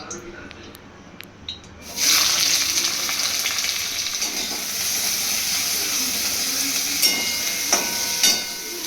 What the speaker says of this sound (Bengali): কড়াই বসিয়ে দিয়েছি আর এখানে দিচ্ছি ঘি দিচ্ছি ঘি দিয়ে সমস্ত ওই সবজিগুলো ভাজবো